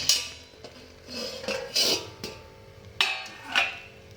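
Gulab jamun are dropped into hot sugar syrup in a metal pan, giving several sharp clinks and scrapes of spoon against vessel with soft splashes between them.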